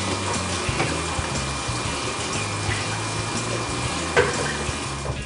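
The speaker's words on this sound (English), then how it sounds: "I am going to give them a quick rinse" Running tap water pours steadily over a wine bung and airlock being rinsed, a continuous close splashing hiss with a few brief clinks and knocks.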